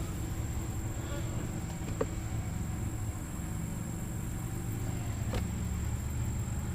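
Honeybees buzz steadily around an open beehive, a close, continuous droning hum with no pauses, joined by a couple of faint clicks.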